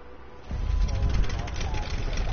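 Airplane engine in the video game Far Cry 5, a low droning rumble that swells in after a quiet start and holds steady, loud and close, for the rest of the moment.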